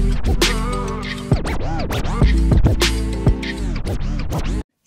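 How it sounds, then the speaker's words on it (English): DJ turntable scratching effect made with ShaperBox TimeShaper, with rapid pitch-swooping scratches chopping through a dense musical loop, loud and busy, ending in a brief cut to silence. "select and move points to shift the scratching in time"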